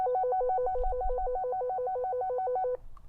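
A handheld GMRS/FRS radio sounds its call tone: a clean electronic warble rapidly alternating between two pitches for nearly three seconds, then cutting off, with a quiet background after.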